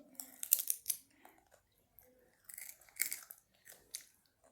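A child biting and chewing food, giving several close, crisp crunching bites in short clusters separated by quiet pauses, faint overall.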